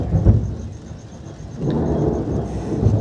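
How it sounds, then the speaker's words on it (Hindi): Loud thunder during a heavy rainstorm, with a sharp crack at the start, a pause, then a second long, deep rumble close by, heard alone without voices. "अरे बाप रे इतना ज़ोर से गरज रहा है यार"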